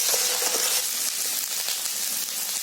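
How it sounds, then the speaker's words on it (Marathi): Ginger-garlic paste frying with browned onion in a pan for a capsicum sabzi, giving a steady, close sizzle with small crackles throughout and no talking. "आता त्याच्यामध्ये आहे ना ही अद्रक लसूणची पेस्ट टाकते."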